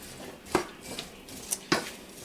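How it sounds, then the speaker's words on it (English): Habanero deer chili gets a brief stir in a pot: a few sharp metallic clinks and taps of the spoon against the side, spaced unevenly over a quiet background. "Give it a little stir here"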